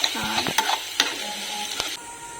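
Garlic being stirred in a cooking pan for a kuda-flower vegetable dish: a few sharp spoon scrapes and clicks over a faint background hiss, with no talking.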